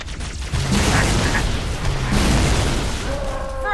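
Grenade blasts in the shooter game Halo 3: ODST boom out loudly over a dense wash of combat noise, with a voice talking through part of the stretch.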